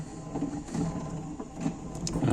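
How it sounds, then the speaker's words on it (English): Windscreen wipers running on an Austin Allegro, giving a steady low mechanical drone with a faint rhythmic sweep that recurs about every second, fairly close and continuous without any talk. "Windscreen wipers. There we go."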